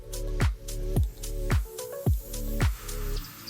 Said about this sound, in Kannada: ಈ ರೀತಿ ನೀಟಾಗಿ ಮಿಕ್ಸ್ ಮಾಡಬೇಕದು.